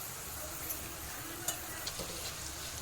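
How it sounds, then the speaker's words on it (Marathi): Chilli powder, turmeric, salt and asafoetida fry in oil for a village-style soaked chana dal pithla, a steady soft sizzle with a few faint clicks of stirring, close and quiet, with no talk. "हे बघा सर्व मसाले झालेले आहे तेलात परतून"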